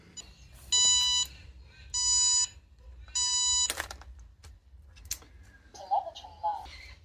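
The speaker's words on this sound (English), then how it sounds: "when you get a low battery, built into the system is you get that beeping for low battery" Three bursts of rapid electronic beeping from a cheap 2017-era drone's low-battery warning, evenly spaced, followed by quieter chirps and faint background noise.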